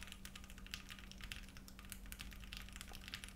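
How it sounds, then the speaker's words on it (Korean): Quiet key presses on a heavy aluminum-and-brass Monstargear XO V3 mechanical keyboard, producing soft, rapid clicks in a steady typing rhythm over a low background hum, close and fairly faint. "엄청나게 무거운 키보드인 이 XO V3라고 하는 키보드인데 이것도 되게 조용해요"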